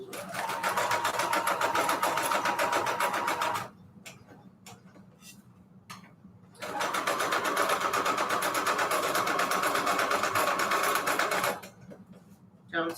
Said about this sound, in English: we're gonna do a little straight stitch, a little bit of length there